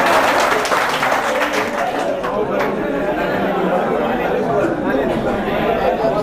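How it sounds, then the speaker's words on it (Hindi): Audience at a Dubai comedy programme clapping and chattering, a strong burst at the start that thins into crowd murmur and voices through the rest. "तालियां तालियां।"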